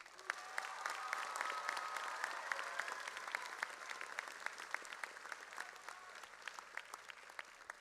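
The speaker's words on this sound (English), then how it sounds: "Graduates, let's take a moment to honor your loved ones at this time with a warm round of applause." A graduation commencement crowd at Hard Rock Live gives a warm round of applause, a steady wash of many hands clapping that holds evenly throughout and is heard from a distance at modest volume.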